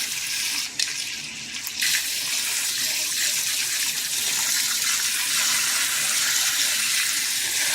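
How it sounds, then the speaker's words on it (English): Tap water gushes steadily into a pot of cut potatoes being prepared for a chuck roast, a loud, continuous rushing fill that carries on unbroken. "So just fill them full of water."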